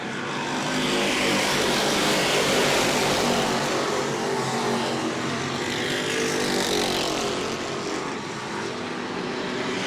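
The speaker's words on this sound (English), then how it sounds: "The point leader Blake Clouser trying to get a run on him down the back straightaway." Super Stock race cars at New Smyrna Speedway, a continuous loud engine roar from a close pack of cars that swells and eases slightly as they run down the back straightaway.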